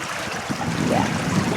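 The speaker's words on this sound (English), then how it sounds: "the creek is running awful high." A swollen creek runs high beside a raised-bed garden, a steady broadband wash of flowing water close by, with wind noise mixed in and no talking.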